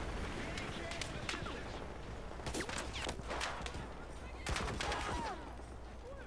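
Gunfire in the Battlefield 4 campaign: scattered bursts of shots crack over a steady background rumble, with a clustered volley near the middle and another sharp burst near the end, while people talk.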